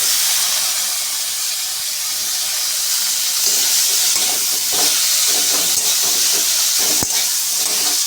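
Tomato and capsicum go into a hot pan already holding ground coriander and cumin for a vegetarian jackfruit and potato curry, giving a loud, steady sizzling hiss throughout, broken by one sharp click near the end.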